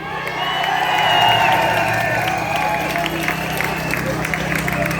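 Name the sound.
rally crowd cheering and applauding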